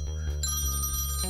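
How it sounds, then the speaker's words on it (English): Electronic telephone ring in a typing bullet-hell video game, a steady bright tonal trill over a low game music bed, short and fairly loud with no voices. "Oh, phone's ringing."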